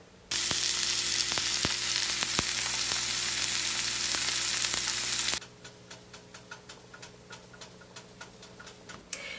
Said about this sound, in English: I want to fry it just lightly on both sides just until the fish is cooked through.